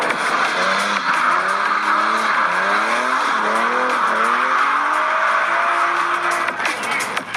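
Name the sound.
cartoon race cars racing, skidding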